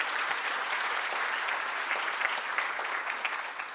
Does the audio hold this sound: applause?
yes